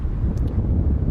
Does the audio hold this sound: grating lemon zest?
no